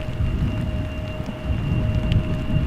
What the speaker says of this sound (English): It is raining a bit too hard to my liking